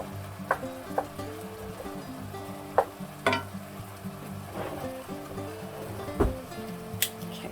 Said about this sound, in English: So we're starting to get a little bit of a boil here